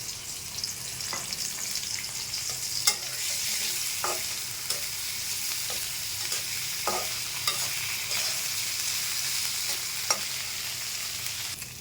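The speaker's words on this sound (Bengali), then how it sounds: "পেঁয়াজ রসুন আদা ভাজা ভাজা হয়ে গেছে।" Onion, garlic and ginger paste frying in oil with bay leaf for rohu fish bhuna with potato, a continuous close sizzle broken by repeated sharp scrapes and taps of a spoon stirring in the pan.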